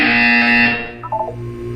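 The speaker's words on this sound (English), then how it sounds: "You will hear a buzzer. When you hear the buzzer, look up at the ceiling." A buzzer tone from the video game Portal 2 sounds during a wellness exercise: a loud, steady harmonic electronic buzz for about three quarters of a second that cuts off, followed by softer blips over a low background hum.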